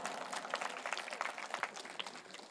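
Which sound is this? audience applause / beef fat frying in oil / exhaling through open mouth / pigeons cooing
audience applause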